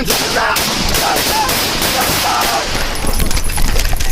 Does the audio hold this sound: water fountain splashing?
no